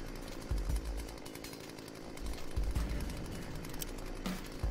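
Chainsaw roaring against a zombie in the video game Dead State, a loud continuous rough buzz with surging low-end bursts and clatter, no voices over it.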